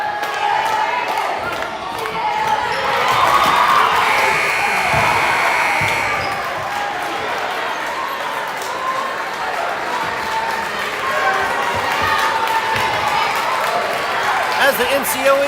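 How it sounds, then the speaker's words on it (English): A crowd at a Little GEC Championship Conference basketball game between NCOE and Hardin County cheers and applauds at halftime, a loud, sustained roar and clapping with an announcer talking over it. "As the NCOE crowd shows their applause, so does the Hardin County Cougars"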